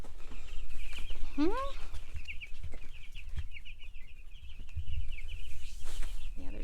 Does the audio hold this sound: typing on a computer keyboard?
no